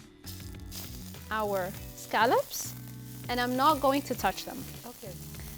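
Scallops sear in hot oil in a pan with a quiet, steady sizzle running beneath a person speaking up close.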